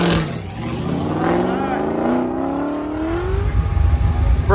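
A 1992 Corvette launches on an autocross course, its engine swelling into a loud, rising rev that holds steady and then climbs again with rapid pulses, under crowd noise and talk.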